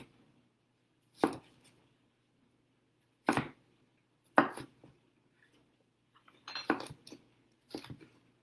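A knife chops vegetables into chunks on a cutting board, sparse sharp chops spaced a second or two apart, some as quick doubles, close and clear with near silence between.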